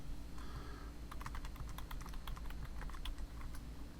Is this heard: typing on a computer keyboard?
yes